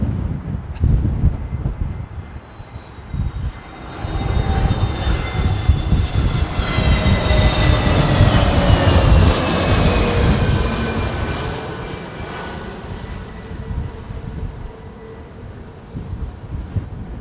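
Aircraft engines roar at windy London Heathrow Airport as a jet passes, a loud sustained rumble that swells and fades with a rising whine over gusty wind noise, with no talking.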